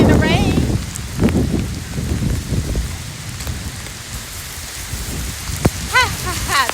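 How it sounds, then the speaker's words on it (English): Steady rain patters down outdoors, close and continuous, while people laugh and talk and a voice briefly sings over it. "We're playing in the rain."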